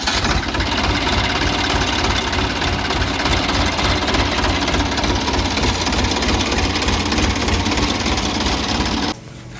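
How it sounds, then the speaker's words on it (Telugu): A tractor engine on a farm runs loud and steady at close range with an even chugging throb. It drops off sharply near the end, and there is no talk. "ట్రాక్టర్ అయితే పొలం నుండి వచ్చేసింది"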